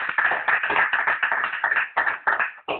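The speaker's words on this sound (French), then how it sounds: "On acclame puissamment le Seigneur" A congregation claps together in praise of the Lord at a church service, a dense run of overlapping handclaps with steady rhythm and brief dips, loud and close with no talking.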